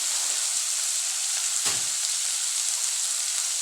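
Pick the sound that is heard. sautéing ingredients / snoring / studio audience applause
sautéing ingredients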